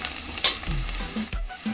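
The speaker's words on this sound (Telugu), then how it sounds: "ఈ ఉల్లిపాయలు ఇందులోనే మనకు బిర్యానీ లాగా వేగిపోవాలన్నమాట" Onions frying with salt in a pan for biryani, a soft steady sizzle with occasional stirring scrapes and clinks, close and moderately quiet, no talking.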